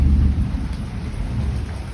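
Rain falling steadily during a storm, with a deep rolling rumble of thunder that is strongest at the start, then a softer constant hiss of rainfall.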